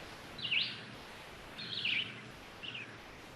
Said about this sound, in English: Beautiful blue jays just come and landed in front of me.